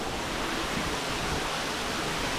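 Running water, a steady broadband rushing wash like a stream or small fall, close and continuous without any break.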